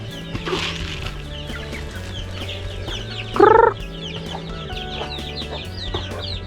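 Free-range chickens cluck and chatter around a farm range in hot weather, with one louder, sharper hen call rising briefly above the steady background of fowl noise.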